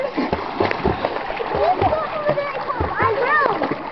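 A person jumping from a high rock into a river at a gorge, the splash landing amid a lively mix of children's and adults' voices talking nearby.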